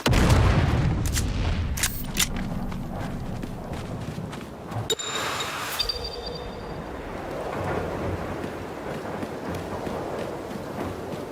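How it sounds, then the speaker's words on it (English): Grenade explosions and gunfire in the video game Dune: Awakening, a heavy booming blast at the start and a sharp crack midway, followed by rumbling battle noise and scattered impacts. "our friend coming from above and throwing out one more grenade"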